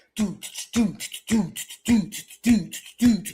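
A voice imitates a steady four-on-the-floor house music beat, rhythmic vocal thumps and hissy hi-hat sounds repeating evenly about twice a second, close and clear.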